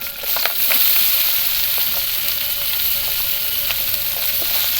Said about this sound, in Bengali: পেঁয়াজও ভাজা হয়ে যাবে তেলটাও ভাজা হয়ে যাবে